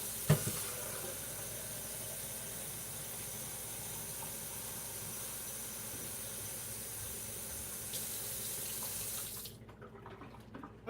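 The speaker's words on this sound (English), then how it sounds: "I got my cold water here from the sink." Cold water running from a kitchen sink tap, a steady broad hiss and splash that holds for about nine seconds and then cuts off as the tap is shut, close and even.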